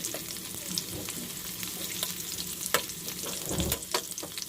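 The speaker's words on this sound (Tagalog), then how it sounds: "antayin lang natin na bumango ang ating bawang na medyo brown" Garlic fried in oil until it turns brown, for sweet and sour fish: a close, lively sizzle and crackle with scraping stirring sounds throughout. No voices.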